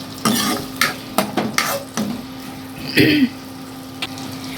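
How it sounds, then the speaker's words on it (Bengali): Onions sizzle in hot oil while a utensil stirs and scrapes the pan in several short bursts, close by and fairly loud. "যে কারণে পেঁয়াজটা একটু ভাজা ভাজা করবো।"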